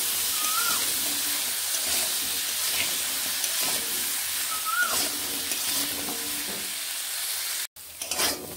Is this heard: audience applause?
no